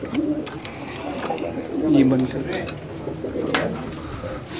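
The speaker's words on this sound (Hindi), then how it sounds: "हम इस वक्त केज में जाते हैं और आपको दिखाते हैं इनके कुछ कबूतर" Pigeons in a cage cooing softly in short low calls, heard close amid rustling and light clinks, with someone talking briefly over them.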